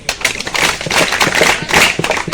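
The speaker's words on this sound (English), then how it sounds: "Clap for yourself." A school debate audience claps for themselves, a dense burst of applause that carries on steadily from start to finish.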